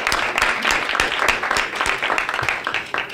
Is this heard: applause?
yes